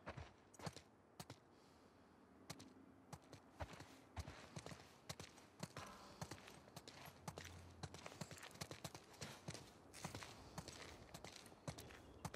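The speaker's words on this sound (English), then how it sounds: "Let's get back to the horses." Horse hooves clip-clopping in The Last of Us Part II, a soft rhythmic run of sharp hoof strikes at a walking pace, fairly quiet and continuous, with no voices.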